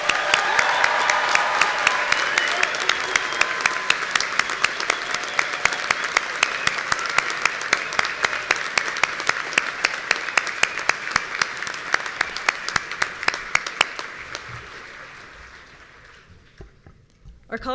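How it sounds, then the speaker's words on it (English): A crowd at a university graduation ceremony for biomedical sciences and neuroscience bachelor's degrees applauds the graduates with loud sustained clapping that gradually thins out, ending with a few scattered claps. "let's give a big round of applause to everybody who graduated today"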